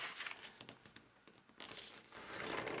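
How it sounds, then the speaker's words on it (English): A sheet of paper is creased and folded into an origami ninja slingshot arrowhead, giving close, soft crinkling and rustling in short bursts that swell into a longer crumple at the end. "now we're going to fold this edge up to the top"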